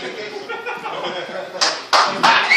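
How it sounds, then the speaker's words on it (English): A tiny comedy-club crowd of about a dozen people at a stand-up show lets out a few sharp, isolated claps after a low murmur, the slaps landing close together near the end. "One clap."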